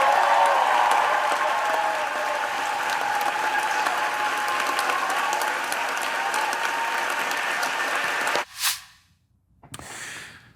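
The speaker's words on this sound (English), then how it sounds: "while the applause was ringing out in the Senate to recognize Cory Booker's filibuster" Sustained applause fills the US Senate chamber, a dense steady clatter of many hands that runs for about eight seconds before cutting off abruptly, followed by a couple of brief faint noises and near silence.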